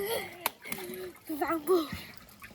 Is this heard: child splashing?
yes